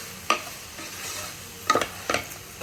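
Broken wheat (dalia) fries with ginger in a pan, a soft sizzle underneath a few sharp scrapes and clinks of a spoon stirring it, close by and without talk.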